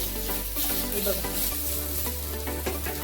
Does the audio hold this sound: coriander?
yes